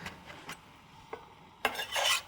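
A whisk scrapes and clinks against a bowl while vinaigrette ingredients are mixed, a few quiet taps followed by a louder, brisk stretch of close metallic stirring, with no talk.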